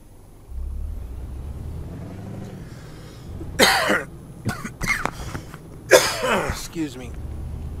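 A man coughs twice into a microphone, two harsh close bursts with small throat sounds between, over a low engine rumble from Euro Truck Simulator 2.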